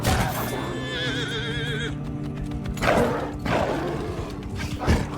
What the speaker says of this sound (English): Some of the horses are quite fast here.